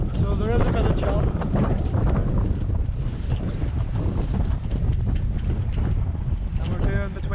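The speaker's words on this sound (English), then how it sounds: "It's blowing about 12 knots" Wind gusts buffet the microphone aboard a sailboat in about 12 knots of breeze, with the tide against the wind raising a choppy sea; steady loud roaring rush throughout, with water slapping beneath and a voice faintly present.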